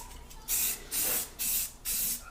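Four short bursts of hissing from a spray paint can coating wheels, evenly spaced with brief pauses between them, close and fairly clear with no talking.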